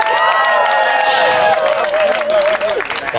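Crowd noise at a dance battle, with a dense wash of cheering, whistles and clapping close by and loud throughout, a shouted voice rising over it near the start.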